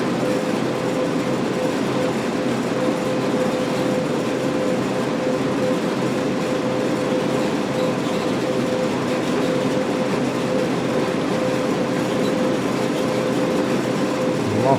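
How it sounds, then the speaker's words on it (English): A BNSF ES44C4 locomotive runs steadily in Train Sim World 3 on the Cajon Pass, with a continuous engine drone, a faint tonal whine and rolling rail noise throughout. "A lot of players are really passionate about the sounds of the trains."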